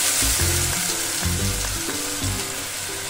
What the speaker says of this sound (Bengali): মশলাটা যতক্ষণ না ভাজা হচ্ছে ততক্ষণ না আমি একটু নাড়তে থাকবো